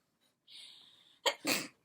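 A single close sneeze: a drawn-out breathy intake followed by two sharp bursts.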